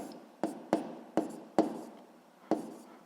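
Chalk or marker tapping and scraping on a classroom board while an equation for a physics exercise is written, five short sharp strokes at irregular intervals, close and clear with no voice.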